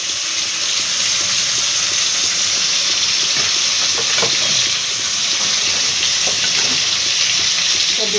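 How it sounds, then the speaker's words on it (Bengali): Prawns and potatoes frying in a pan make a loud, dense, continuous sizzle with hissing steam and occasional stirring clatter, close up and without speech. "ভালো করে ভেজে নেবো দেখো চিংড়ি মাছটার সঙ্গে এটা ভালো করে আলুটা ভেজে নেবো"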